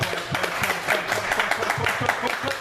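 Comedy club crowd at a coffee shop open mic claps along in a steady rhythm, the many hands close and fairly loud with scattered voices and cheers mixed in.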